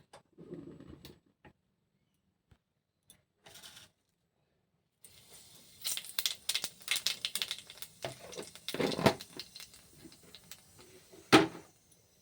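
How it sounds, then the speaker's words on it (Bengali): Nigella seeds hit hot oil as tempering for cooking greens, bursting into a close crackling sizzle with sharp pops scattered through it after a quiet start. "এখানে এখন আমি দেব কালো জিরে, কালো জিরে দিয়ে এটা ফোড়নটা দেবো। দেখো তেলটা গরম হয়ে গেছে।"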